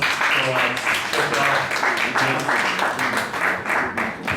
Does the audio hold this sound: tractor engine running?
no